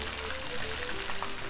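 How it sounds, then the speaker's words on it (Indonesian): Garlic sizzles in a hot pan for Malaysian tomato rice with chicken, a steady close crackle of frying with a faint tonal hum underneath and no talking. "kita goreng sampai habis"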